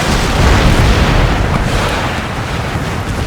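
Cannon artillery fire in Empire: Total War, Darthmod, in a battle for Spain: a continuous loud, rumbling barrage of booms with dense low-end thunder, no distinct single shots, holding steady throughout.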